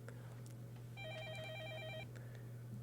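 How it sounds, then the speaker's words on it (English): Telephone ringing in the game Fate/stay night Remastered, a faint electronic warbling ring lasting about a second over a steady low background hum, with no talk. "I'm gonna go answer the phone."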